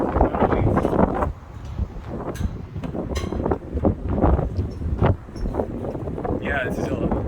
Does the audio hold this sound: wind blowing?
yes